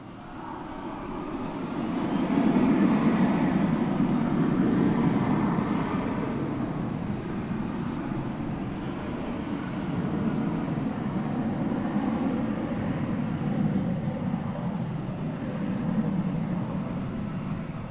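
An airliner takes off from runway 18 Left at Dallas Fort Worth airport, a broad roaring rumble that swells over the first few seconds and then holds as a sustained, moderately distant roar.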